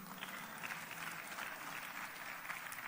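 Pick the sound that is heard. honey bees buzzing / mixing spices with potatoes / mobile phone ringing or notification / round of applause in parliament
round of applause in parliament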